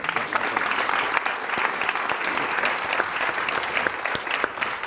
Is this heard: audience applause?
yes